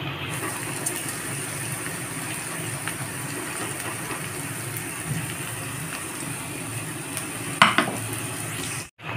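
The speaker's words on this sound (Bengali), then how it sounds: "এখন পেঁয়াজের সঙ্গে ভালোভাবে নাড়াচাড়া করতে থাকবো যতক্ষণ না পোস্তটা ভাজা ভাজা হয়" Poppy seed paste sizzles and fries with browned onions in a pan, stirred steadily with occasional scrapes and a brief clatter near the end; a continuous close hiss with no talking.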